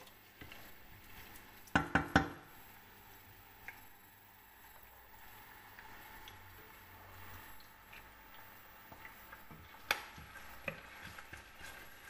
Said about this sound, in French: les oignons, vous pouvez les couper grossièrement si vous voulez